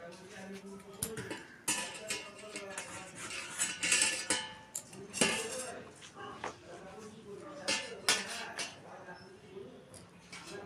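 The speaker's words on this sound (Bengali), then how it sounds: "মা এখন স্ট্রবেরিটা আর টমেটোটা কেটে নিচ্ছে।" Strawberries and tomatoes being cut for a chutney in a home kitchen, with repeated light knife taps and clinks against a board or plate, close and moderately loud, while someone talks over them.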